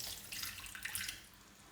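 Water is poured into homemade mango pickle, giving a faint, short splashing trickle.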